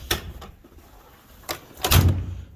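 Cab door on a John Deere 4440-era tractor, two or three close, sharp clunks and rattles as the latch works, ending in a heavier thud as it shuts, with quiet gaps between.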